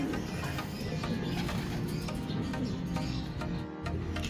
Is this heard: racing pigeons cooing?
yes